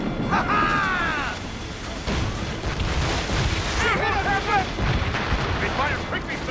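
Enemy ships fire their cannons at sea in Assassin's Creed Rogue, producing a dense, continuous roar of booming blasts and rumble while crew voices shout over the barrage.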